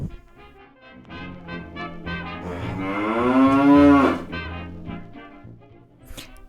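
A cow lets out one long, loud mooing bellow that rises and swells before trailing off, set against a steady low background and heard alone without any talking.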